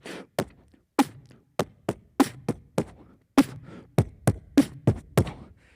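A beatboxed drum kit, voiced entirely by mouth, imitating bass kick, snare and rim shot in a steady groove of about a dozen sharp percussive hits, close and loud with no other sound.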